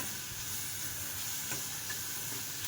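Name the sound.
sautéing tomatoes and coriander with green mung beans in a pan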